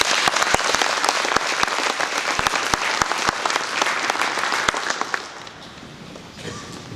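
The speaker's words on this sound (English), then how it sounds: "Let's give them a round of applause." A crowd at a high school NJROTC area manager inspection applauds, a loud burst of many hands with sharp individual claps standing out, then tapering off abruptly near the end into quieter room sound.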